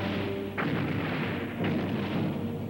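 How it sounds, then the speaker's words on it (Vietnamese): Two heavy cannon shots boom about a second apart, each a sharp blast with a rolling tail over a steady low rumble, in a battle scene against Song troops. "Quân Tống đang ở trước mặt, mình lập tức bắn quả pháo đi."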